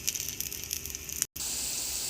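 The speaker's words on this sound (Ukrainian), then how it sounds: "ми обсмажуємо нашу ковбаску на сухій сковорідці без олії" Hunting sausage frying in a dry pan with no oil, giving a steady close sizzle and crackle that breaks off for a moment, then resumes just as loud.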